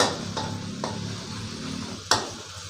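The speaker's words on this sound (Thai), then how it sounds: "ผัดพริกกับกระเทียมให้หอมนะครับ" Chili and garlic stir-fry in a hot pan with a steady sizzle, while a utensil scrapes and stirs and gives a few sharp clinks against the metal, one louder knock near the end.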